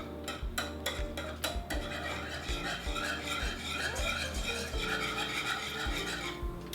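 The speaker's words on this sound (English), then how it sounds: "You can use a whisk here." Butter, salt and sugar being whisked in a pan: a rapid, rhythmic metallic scraping of whisk against pan with regular clicking strokes, close and continuous, no talking.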